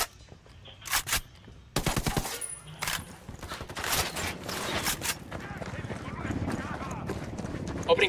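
Gunfire in the video game Ghost Recon Wildlands at a coca farm near a freight yard: sharp bursts and single loud shots crack out irregularly amid clattering game effects and background noise.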